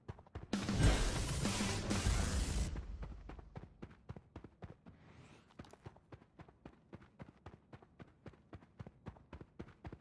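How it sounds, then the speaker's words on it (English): Footsteps in Fortnite prop hunt, a long run of quick, evenly spaced game-engine steps that continue steadily after a loud burst of rushing noise at the start, moderately close. "I hear footsteps."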